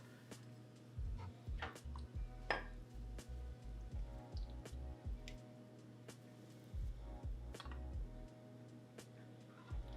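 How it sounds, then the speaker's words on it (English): Finished beef stew with potato being served into a bowl: soft clinks and scrapes of a utensil against the dish, a few sharper taps, and low thumps over a quiet kitchen background. "So now it's time to put it in a bowl and we're gonna give it a taste."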